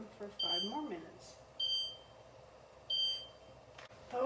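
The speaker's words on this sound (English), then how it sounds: "Okay, our timer is going off." A kitchen timer beeps while pot-fried chicken cooks on medium heat, three short bursts of high electronic beeping spaced about a second and a half apart, with a voice speaking quietly in between.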